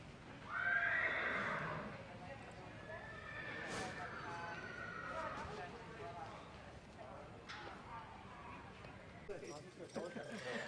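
At a Lexington horse sale, a horse whinnies loudly near the start, and hoof clops and general barn noise run beneath someone speaking throughout.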